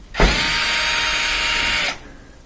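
A power screwdriver whirs steadily for nearly two seconds, backing Phillips head screws out of a household appliance, close and loud with an abrupt start and stop.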